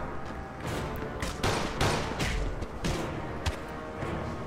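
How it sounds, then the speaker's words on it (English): Gunfire in the video game Mafia 2: loud, clustered shots and bursts crack out repeatedly over several seconds, with heavy thumps and a dense, chaotic firefight texture throughout. "Stop shooting that fucking thing."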